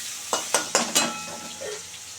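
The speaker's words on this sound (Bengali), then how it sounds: "এই যে কালো জিরা ফোড়ন দিয়ে দিলাম। এবারে একটা পেঁয়াজ ফোড়ন দিলাম।" Black cumin seeds and onion hit hot oil for a thin fish curry, giving four sharp sizzling bursts in quick succession that then fade into a softer, steady crackle, close and clear with no talking.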